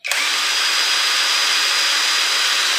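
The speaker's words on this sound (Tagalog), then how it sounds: "Testing natin kung uubra ba tong impact wrench na to." A Tanzu 330 Nm impact wrench is switched on and runs with a loud, steady, high-pitched whirring motor drone that starts abruptly and holds constant, close up with no speech.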